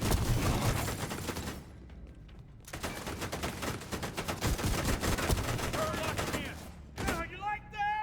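Rapid turret gunfire in a video game rattles in dense bursts, with a short lull before resuming, while players talk over the shooting.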